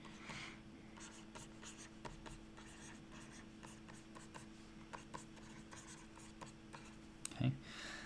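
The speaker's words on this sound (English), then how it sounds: "Let's write it down just so we have it handy." Equations are written by hand in quiet, faint pen or marker strokes, a soft, irregular scratching and tapping that runs steadily, ending with a brief louder knock.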